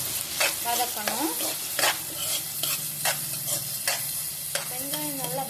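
Onions sautéing toward golden in a pan after salt goes in, for a crab gravy: a steady close sizzle broken by repeated scraping spatula stirs with occasional squeaky metal scrapes, no talking.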